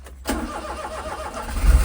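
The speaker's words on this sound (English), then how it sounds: "I'm just going to start it one more time." A kei car engine cranks and catches on a freezing snowy day, a sudden start followed by a steady close idle with a rising rumble at the end.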